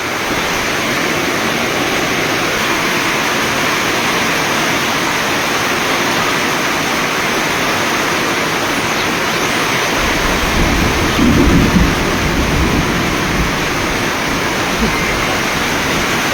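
A dense, continuous roar of very heavy rain pours down close by for the whole stretch, growing slightly louder and fuller in the later part, with no break in the downpour.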